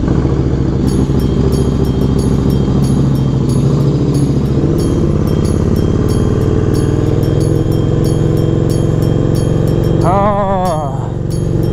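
A motorcycle running after being started, a steady loud engine drone with a harmonic hum and rapid ticking, plus a brief warbling sweep near the end.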